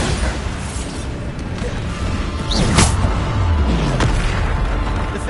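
A Bombarda spell goes off in Hogwarts Legacy: a loud boom with a whooshing rush and a crash near the middle, over steady game noise and a continuous roar, with no talking.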